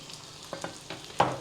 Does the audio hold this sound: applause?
no